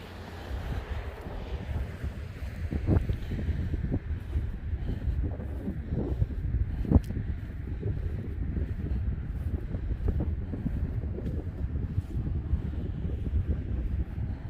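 Wind blowing across open, treeless rolling fields, a constant low buffeting roar with gusty rumbles against the microphone, steady and unbroken throughout.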